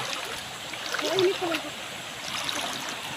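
Water of the Naic river splashing and trickling close by, a continuous wash with a few brief louder splashes, while people talk faintly in the background.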